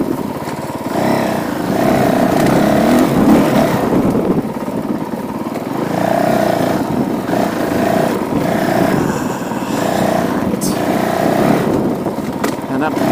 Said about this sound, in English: Sometimes it's nice to, you know, unleash the bike a little bit.